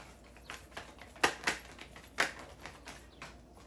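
Tarot cards riffled and snapped during a shuffle, a quiet close-up run of soft papery flicks with a few sharper slaps spaced irregularly over a few seconds.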